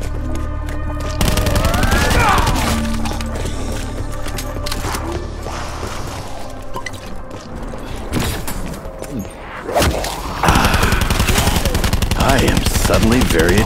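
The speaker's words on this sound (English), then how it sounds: "Kinda hard to hear anything over the shrieks, explosions, and gunfire." Rapid automatic gunfire and scattered blasts from Call of Duty Black Ops 4, continuous and dense, with shrieks and mechanical noise mixed in throughout.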